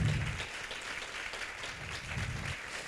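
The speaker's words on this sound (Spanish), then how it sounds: "un fuertísimo aplauso para la gente de comunicación" Symposium audience applauding, a soft, continuous patter of many hands heard from a distance, faint and even throughout.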